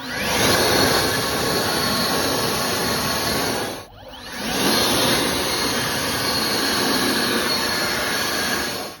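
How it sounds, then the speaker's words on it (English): A powerful air blower roars steadily while drying a truck's wheels, loud and close, with a brief dip in the middle as the airflow shifts before the rush resumes, no voices over it. "Blow dry them wheels dry."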